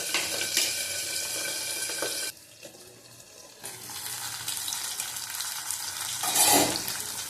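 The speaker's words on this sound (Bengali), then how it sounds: "মাছ ভাজা হয়ে গেছে, তুলে নেবো।" Pabda fish sizzle in a frying pan. The crackle holds loud and steady, drops out briefly, then returns with a clattering stir near the end.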